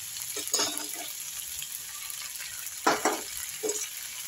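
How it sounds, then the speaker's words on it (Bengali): Chopped onion, capsicum, tomato and green chilli fry in a pan for egg chilli, a steady close sizzle broken by a few louder bursts of stirring. "দিয়ে দিলাম কেটে রাখা পেঁয়াজটা একটু লাল করে ভাজা হলে দিয়ে দিলাম ক্যাপসিকাম, কেটে রাখা টমেটো আর কাঁচা লঙ্কা"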